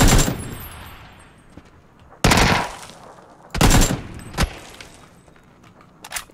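Gunfire in the PC video game PUBG: loud automatic bursts and sprays of shots in several separate volleys with short pauses between them, close and dominant.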